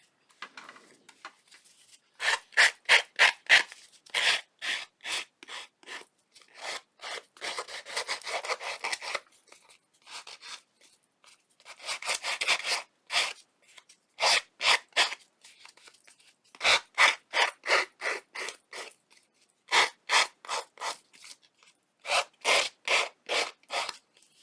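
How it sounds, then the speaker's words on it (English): Small hand-held sander roughing up the paper pages of a junk journal, heard close up in short repeated rasping bursts of back-and-forth scrubbing, separated by brief pauses. "excuse me while I get my little sander."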